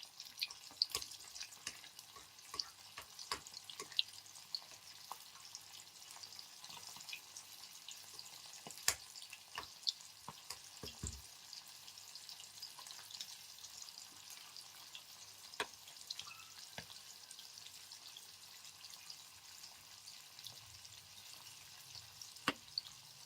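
Prawns fry in a pan for a spicy prawn chilli, giving a steady, fairly quiet sizzle with scattered sharp pops and crackles throughout and no voices.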